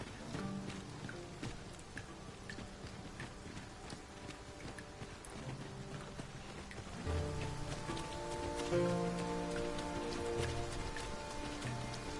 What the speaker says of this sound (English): Tis raining still